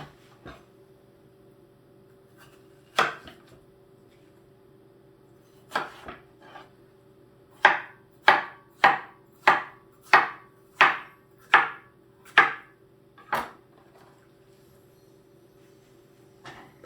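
Knife chopping watermelon into chunks on a cutting board: a few scattered cuts, then a quick run of about eight evenly spaced, crisp chops, one last stroke after, close and clear with no talk.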